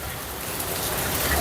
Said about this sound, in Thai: ฝนตกช่วงจะกลับบ้านพอดีครับ